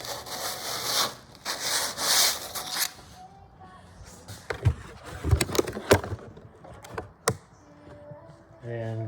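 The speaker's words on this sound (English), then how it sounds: "You want to make sure you're sanding off the high spot." A wooden block is sanded by hand on a cheap DIY block decking job, knocking down the high spots. Soft rubbing strokes come in uneven bursts, mixed with scattered taps and knocks, and someone talks over parts of it.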